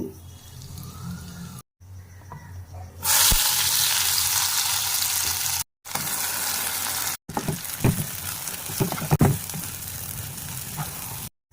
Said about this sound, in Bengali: আমি একটু কড়াইতে তেলের মধ্যে দেব মশলাটাকে